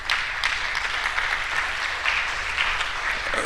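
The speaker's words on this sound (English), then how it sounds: "I think we give them a round of applause." An audience at a higher-education summit on AI breaks into a round of applause, a sustained, even crackle of many clapping hands that holds for several seconds with little talk.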